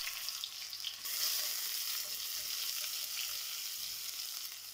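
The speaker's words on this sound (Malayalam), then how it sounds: "രണ്ട് ടേബിൾ സ്പൂൺ നിറയെ വെളിച്ചെണ്ണ എടുക്കുക. ഇനി നമുക്ക് ഒരു ടീസ്പൂൺ കടുകിലേക്ക് ഇട്ട് പൊട്ടിക്കാം." Mustard seeds splutter in hot coconut oil in a pan for a Kerala plantain erissery. A dense, even hiss of crackling fills the clip, rising slightly after the first second, close and steady, with no voices.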